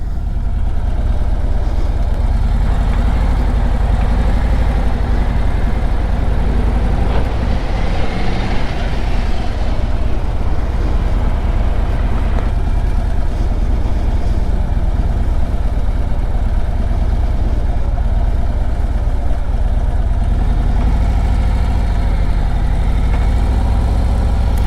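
A 2025 Harley-Davidson Road Glide motorcycle rumbles steadily while riding, its deep engine note loud and continuous with a brief throttle swell, wind and road noise mixed in.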